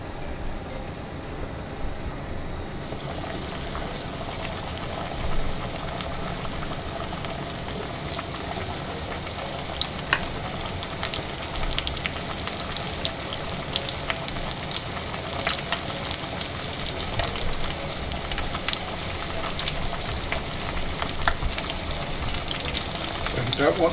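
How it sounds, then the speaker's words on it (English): Chicken pieces dropped into hot oil for Southern fried chicken sizzle and crackle steadily, a loud, bright frying hiss that starts abruptly and continues throughout with scattered pops. "we're going to put them into our oil"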